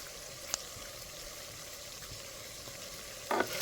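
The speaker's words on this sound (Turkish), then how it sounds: "Artık suyun değil yağın içinde kavruluyor etlerimiz" Meat roasting in fat in a pot over an outdoor wood fire gives a steady, close sizzle and crackle, with a brief scrape of stirring near the end.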